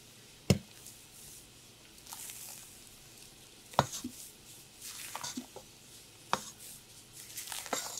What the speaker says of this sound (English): Fold this together.